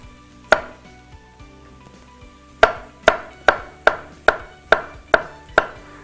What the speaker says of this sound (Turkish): Şimdi sonuncu da doğrayım.